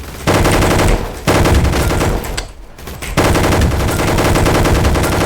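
Rapid automatic gunfire from the Roblox game Gunfight Arena, loud sustained bursts with a brief pause in the middle before firing resumes.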